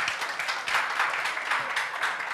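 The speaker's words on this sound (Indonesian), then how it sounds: "Tepuk tangan." A congregation claps together during a Sunday church service celebrating graduates, a steady, even ripple of many hands clapping that fills the room without speech over it.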